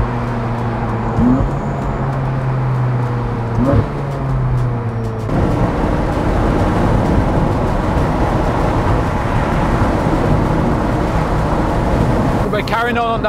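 Riding in a Ferrari in a five-car convoy, following a Ferrari 355 on the road from Prescott toward Malmesbury: a steady low engine drone under constant road and wind roar, with a brief rumble shift partway through.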